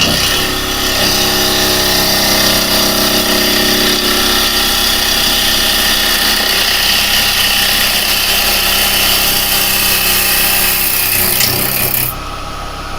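A spindle gouge cuts a wooden skull bowl spinning on a wood lathe, making a loud, continuous rasping whir that holds steady before dropping away abruptly at the end.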